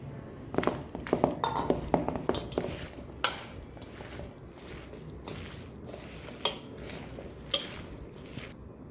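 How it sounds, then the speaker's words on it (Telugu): Mango pickle pieces are mixed by hand with oil and spice paste, making soft wet squishes and scattered light taps and clinks against a bowl, close and fairly quiet, with no talking. "చేతితో మంచిగా కలుపుకోవాలి"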